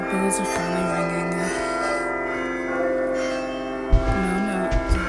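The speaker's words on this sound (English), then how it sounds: "Bells are finally ringing." Church bells ring steadily inside the Roblox horror game My Judgement, a sustained, layered chime with a few heavier low thuds near the end, loud and close.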